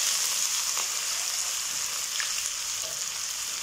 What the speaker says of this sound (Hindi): तेल अच्छा गर्म होने के बाद हम ऑनियन ऐड करेंगे